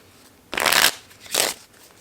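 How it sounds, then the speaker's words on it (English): Playing cards riffle-shuffled twice in close succession, a loud crisp burst followed by a shorter, slightly softer one, heard up close in a quiet indoor room. "and we'll shuffle"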